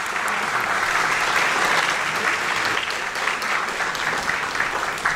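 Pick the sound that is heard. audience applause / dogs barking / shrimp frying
audience applause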